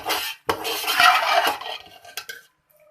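A spatula scrapes and clinks against a pan while egg fried rice is stirred, close and fairly loud, in uneven strokes with short gaps and no talking.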